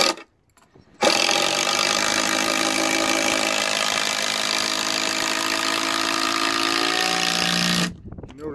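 Impact driver sinking screws into hardwood timber for an off-grid log cabin, one loud sustained burst of about seven seconds, near and steady, with short quiet pauses before and after.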